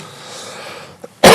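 A single loud, harsh cough bursts out after a stretch of low courtroom room tone, preceded by a faint brief throat sound, in a county court hearing.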